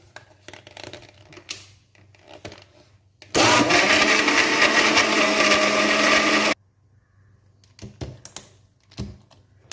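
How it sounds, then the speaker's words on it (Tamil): A mixer grinder (mixie) churns cream with saved daily milk skin into homemade butter, a loud steady whirring roar running about three seconds in the middle, with quieter kitchen clatter before and after. "இப்போ மிக்சியை போட்டுடலாம்."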